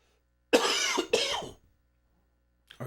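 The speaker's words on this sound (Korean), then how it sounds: "이거 헛기침이 자꾸 나와" Two quick throat-clearing coughs in a row, close and fairly loud, followed by silence and the start of another sound at the end.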